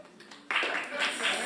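A comedy club audience bursts into applause in response to a question: after a quiet half second, a sudden, steady wash of many hands clapping fills the rest, fairly loud and close.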